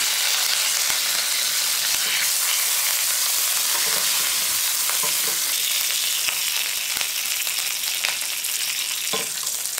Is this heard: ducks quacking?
no